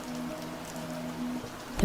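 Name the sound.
rain falling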